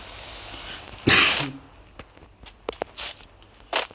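A person playing an online battle royale game lets out one sharp, loud cough burst, followed by faint scattered taps and small noises.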